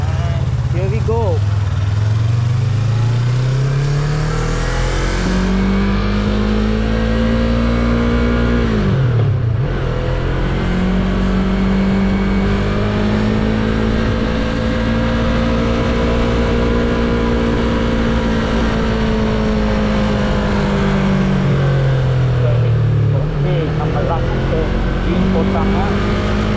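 A Yamaha MT-25 motorcycle engine revs and accelerates steadily while riding, its pitch climbing, dropping at a gear change, then climbing and falling again, loud and close throughout with a voice speaking over it.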